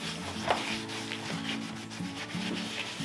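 Acetone is rubbed onto leather shoes to strip their color, a soft close scuffing and wiping that runs continuously at low volume with faint irregular strokes.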